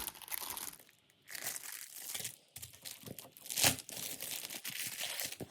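Thin plastic zip envelopes crinkle and rustle as they are handled, with bursts of crackling and brief pauses between, close and fairly loud, no talking.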